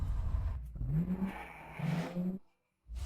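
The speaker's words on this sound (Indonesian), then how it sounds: "sepertinya ada sebuah mobil yang mengikuti kita." Car engine revving as it accelerates while following another car, a close rising whine with a steady pitch climb, broken by a brief cut to silence before the sound returns.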